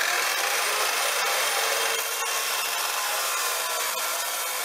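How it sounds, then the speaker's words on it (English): A power tool cuts the corners off a metal fat bike frame, a steady, loud, bright grinding whine that holds without pause, close by and with no talking. "I'm gonna cut these corners off to make it look a little nicer."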